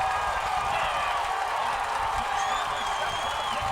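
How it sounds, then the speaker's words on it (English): Football stadium crowd at a high school game roaring after a touchdown, a steady, dense wash of cheering and shouting that holds at full volume throughout with a few higher whoops rising above it. "Listen to this crowd."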